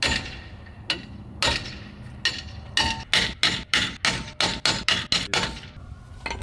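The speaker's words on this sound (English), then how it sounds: "So we just keep whacking it." Hammer blows against a wheel on an FJ60 Land Cruiser during a brake job, several scattered whacks at first, then a fast run of loud, close metallic strikes in a steady rhythm, with no talk over them.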